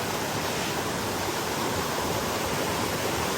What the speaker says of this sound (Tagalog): lalapitan natin yung waterfalls doon, guys